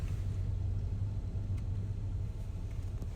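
Car engine rumbling nearby on a street during a car show, a steady low drone held throughout with no voices.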